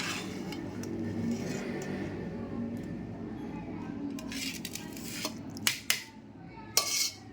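Steamed rice dish with pavta beans being mixed with a spoon in a pot, a low scraping rustle followed by a few sharp metallic clinks of spoon against pot near the end.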